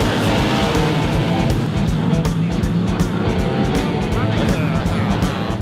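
Stock cars race around a track at Palmerston North, their engines roaring steadily throughout while a commentator talks over the noise.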